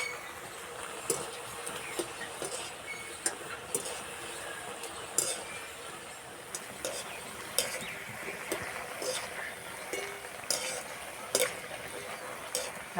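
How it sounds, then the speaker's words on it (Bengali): Ripe banana pitha fry in hot oil with a soft, continuous sizzle, broken by frequent light clinks and scrapes of a utensil against the pan. "আর এই যে ভাজা হচ্ছে, যা সুন্দর গন্ধ বেরিয়েছে।"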